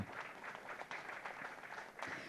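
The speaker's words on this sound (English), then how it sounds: "Let's give a big round of applause for our wonderful" A conference audience applauds the panelists at the close of a session, a faint, steady patter of many hands clapping at a distance for a couple of seconds.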